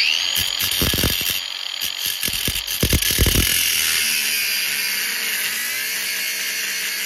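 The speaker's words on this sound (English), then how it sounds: "the only way I can find to do it easy is with an angle grinder" Angle grinder cutting through the lightweight wall of a popup camper to fit a foam door: a loud, steady high whine with several rough bursts as the disc bites, then a sustained spinning hum, no talk.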